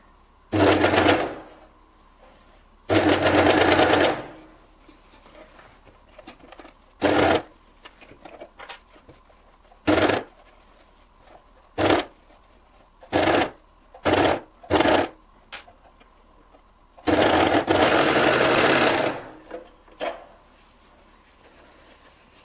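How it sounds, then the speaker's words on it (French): An overlocker serging the neckline of a t-shirt, sounding as close mechanical whirring bursts of varying length separated by quiet pauses, several short and a few sustained. "Et voilà, l'encolure. À la surjeteuse."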